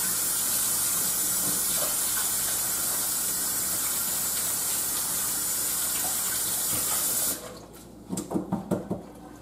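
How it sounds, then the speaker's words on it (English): Tap water runs steadily and loudly from a faucet into a kitchen sink while hands are washed, a continuous broadband rush that cuts off near the end, followed by a few short splashes and knocks. "Let me wash my hands and get that."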